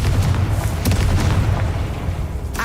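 Casting the Confringo spell in the Hogwarts Legacy video game sets off a deep booming blast with a burst of crackling debris, loud and close, fading into a low rumble before a short hiss at the end.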